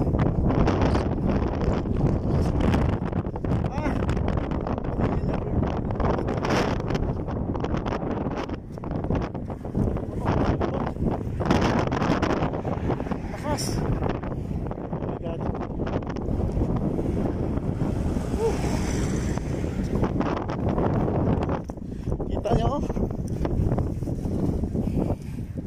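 Strong, steady sandstorm wind in Hofuf, Saudi Arabia, roars and buffets the microphone without letup, a dense gusty rush filling the whole stretch.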